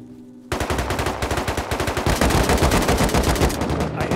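Automatic AK rifle fire in the survival game Rust, a sudden loud sustained burst of rapid close shots that runs on for several seconds after a quiet start, with no talk over it.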